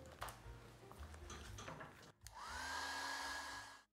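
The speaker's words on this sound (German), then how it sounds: "vorher föhne ich mein Bild noch einmal trocken." Light tapping and handling give way to a hair dryer switched on near the microphone. It blows a steady, whining rush of air for about a second and a half while drying a watercolour painting, then cuts off.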